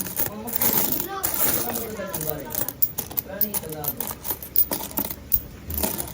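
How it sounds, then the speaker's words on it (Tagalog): Five-peso coins clink and tap as they are counted and stacked, small sharp metallic clicks scattered under steady close talk. "Kasi maganda magbilang ng barya pag pinagpapatong-patong mo siya ng ganito ba."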